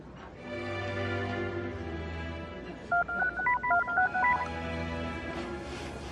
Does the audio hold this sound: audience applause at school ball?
no